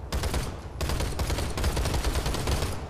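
An Uzi and a repeater fire in the Planetside 2 video game, loud rapid bursts of gunfire with a brief pause near the start, then a long steady stream of shots.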